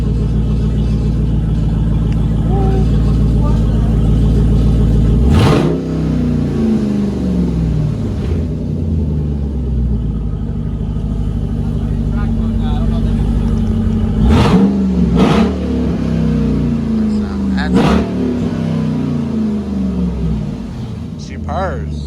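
Straight-piped exhaust on a 2020 SRT rumbles loudly at idle, then rises in three sharp revs a few seconds apart, each spiking and dropping back to the deep burble. People talk near the car throughout.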